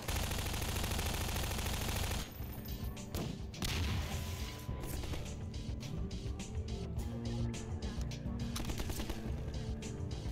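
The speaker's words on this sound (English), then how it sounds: "Who's shooting?" Gunfire in the video game Half-Life 2, repeated rapid shots and bursts crackling over a busy, loud backdrop, dense and continuous for several seconds after a brief lull.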